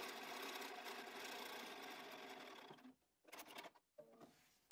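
A sewing machine chain-pieces split nine-patch quilt units one after another, running in a steady close whir for nearly three seconds before stopping, then giving a few short stitching bursts.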